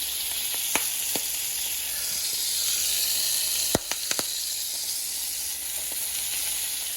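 A one-eyed jack with meat fries in butter, seasoned with black pepper and Creole seasoning, giving a steady close sizzle broken by a few sharp pops and crackles.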